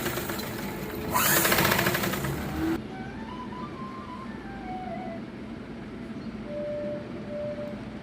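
A sewing machine stitches a size 34 blouse in one loud, rapid whirring burst of under two seconds, followed by a quieter room.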